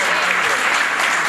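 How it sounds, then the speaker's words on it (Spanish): Steady, dense applause from an audience for performers at a stage show, filling the whole short moment without a break. "El aplauso para todos ellos"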